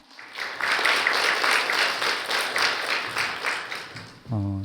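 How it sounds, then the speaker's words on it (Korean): Audience applause opening a youth smartphone and digital mental health forum in Seoul, a dense wash of clapping filling most of the clip and tapering slightly before a voice begins at the end. "이제 박수로 시작하도록 하겠습니다."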